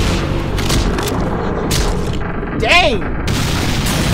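Rocket explosions boom through a Skibidi Toilet video game battle, with heavy blasts and rumbling impacts under an excited voice.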